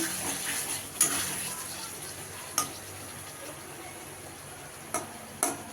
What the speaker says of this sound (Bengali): ঢাকা দিয়ে আলুটা ভালো করে কষিয়ে নিতে হবে।